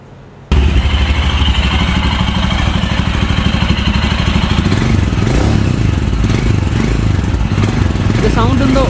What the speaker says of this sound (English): This is my Himalayan Scram 411. Let's just turn it on.